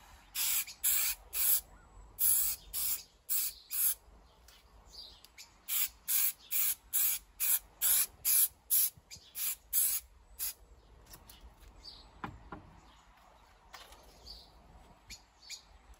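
Repeated short hissing bursts of spray adhesive onto a plywood van panel, in two rhythmic series, close and sharp, separated by quiet pauses, followed by a few scattered fainter hisses.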